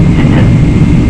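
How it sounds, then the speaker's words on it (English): Steady low roar of GE90 jet engines spooling up on an EVA Air Boeing 777 at takeoff, heard as a dense continuous rumble with broadband hiss from inside the cabin, loud and unbroken. "anticipate the GE90 spool-up sound that I love"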